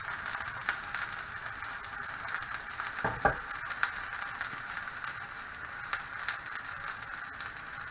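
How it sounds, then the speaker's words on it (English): Steady sizzling of chicken schnitzel frying in a pan, a constant crackling hiss with a few sharper pops, fairly quiet and close. "You just want a quick frying it off before it goes in the oven."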